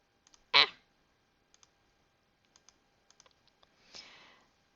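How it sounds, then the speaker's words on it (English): A single sharp mouse or button click near the start while solving a math problem, followed by a few faint, scattered ticks and a softer, longer rustling click toward the end, with no talking. "if I click the right button"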